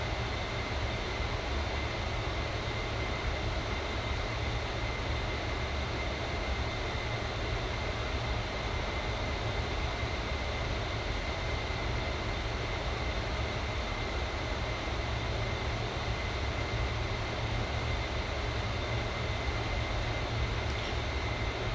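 Avro Vulcan B.Mk 2 jet bomber cruising in flight in Microsoft Flight Simulator, a steady, unbroken roar of engine and airflow with a constant whine, loud and continuous throughout with no voices.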